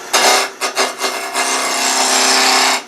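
A wood turning tool cutting into wood on a lathe for a pull toy, a loud broadband rasping scrape, first in a few short bursts and then held as a continuous cut before it stops.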